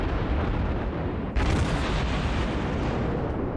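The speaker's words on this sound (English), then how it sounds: "We have somebody else shooting at him" Naval gunfire and explosions in the World of Warships video game, a dense continuous rumble of battle with one sharp loud boom bursting out midway before the rumble carries on.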